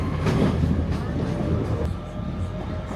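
Northern passenger train to Manchester Airport rolling on rails, a loud steady interior rumble with faint rhythmic clicks, heard from on board with voices partly over it.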